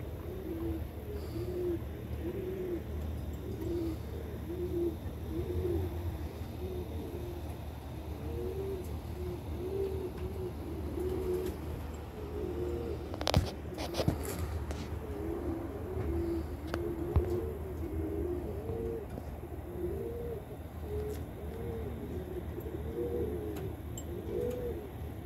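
Pigeons coo steadily in a pigeon loft, a soft repeated rolling murmur from several birds running through the whole stretch, with a few brief sharper knocks partway through and a low steady background.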